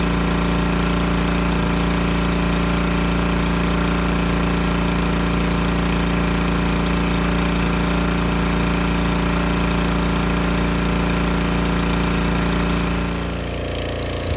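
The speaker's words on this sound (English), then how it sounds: "going to power wash and clean all the impurities off that he can" A gas-powered pressure washer runs steadily while cleaning dirty, flaky coating off a camper roof, its motor drone loud and constant for the whole stretch and easing slightly near the end, with no talk.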